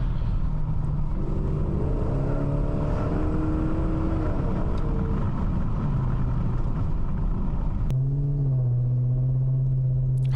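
Engine of a BMW E38 750i V12 luxury sedan, a steady low drone with rising and falling harmonics as it revs under way, loud and continuous with a brief shift near the end before settling into a smooth hum.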